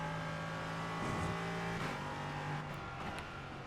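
V8 race car engine in the iRacing simulator, racing at Zandvoort, holds a steady drone then shifts and climbs in pitch, with a brief rougher burst midway, moderately loud.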